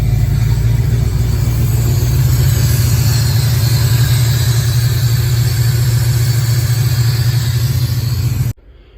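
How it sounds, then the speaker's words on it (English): A 1965 Ford F100 engine idles close and loud with a steady low rumble and even throb, running unchanged until it cuts off abruptly near the end. "That's our engine idle."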